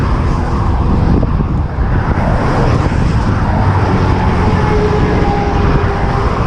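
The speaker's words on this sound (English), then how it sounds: "A lot of traffic along here." Steady roadway traffic on a busy road near Buffalo Run Boulevard, Calgary, cars rushing past continuously at close range, loud and unbroken with a broad rumbling hiss, heard from a bicycle on the shoulder.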